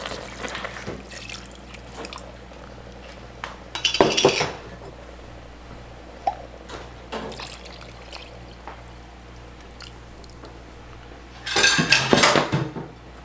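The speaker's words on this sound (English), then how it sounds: "now we're going to add in our 2 quarts of beef stock" Beef stock being poured into an Instant Pot, two bursts of splashing liquid, with metal utensils clinking against the pot in between.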